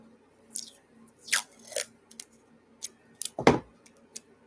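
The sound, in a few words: tape being pulled and applied to a package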